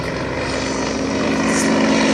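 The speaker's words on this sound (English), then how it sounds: "He'll take the aircraft down to the 2-3 end of the runway to turn round." Radio-controlled model aircraft flying over an airfield, a steady loud propeller and engine drone holding constant without a break, with a faint higher whine rising briefly.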